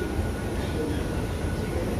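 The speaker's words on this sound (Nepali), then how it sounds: "अब यहाँ चाहिँ आएर चाहिँ ट्रेन रोकिन्छ" A Dubai Metro train pulls into a station with a steady low mechanical rumble and whine, moderately loud and continuous over the short span.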